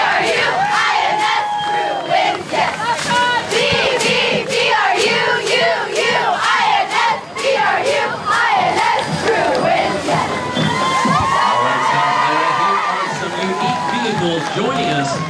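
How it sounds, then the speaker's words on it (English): A large crowd at a street parade cheers and shouts loudly and continuously for a school spirit squad performing, a dense roar of many voices with whoops and yells that stays strong throughout. "Let's give them a big cheer."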